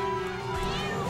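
A cat meows in South Park: The Stick of Truth, one drawn-out rising and falling cry over a steady droning game background with music-like tones.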